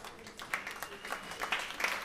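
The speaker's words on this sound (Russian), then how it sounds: "Ваши аплодисменты." Audience applause for a string quartet led by the first violin, heard as a soft, diffuse patter of clapping with a few sharper claps standing out, somewhat distant and low in level.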